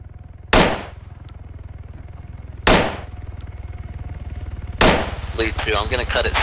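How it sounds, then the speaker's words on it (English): Single tracer rounds fired from a rifle in Arma 3, three loud sharp cracks spaced about two seconds apart over a steady low engine-like drone, with a brief warbling tone after the last shot. "I will be firing Tracer now. I'll be tracking it one shot every few seconds."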